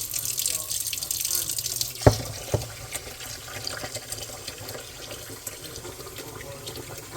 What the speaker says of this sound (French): Et je commence à laver avec de l'eau tiède.